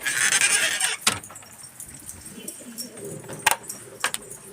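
Pigeons coo in a rooftop loft, with soft, low calls under a noisy background. Sharp flaps and clicks come through from time to time, and no one speaks.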